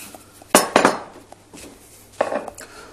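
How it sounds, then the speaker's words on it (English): Metal pan knocked and shifted with a few sharp clanks and rattles as tart pastry is laid over it, two clustered bursts of clatter with quiet gaps between, close and fairly loud with no talk. "Then I'm going to take it and put it over the pan and unroll it."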